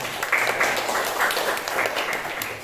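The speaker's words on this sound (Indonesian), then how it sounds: "Iya, tepuk tangan." Students in a seventh-grade classroom clap for a classmate, a steady round of many hands clapping close by for a couple of seconds, with faint chatter beneath.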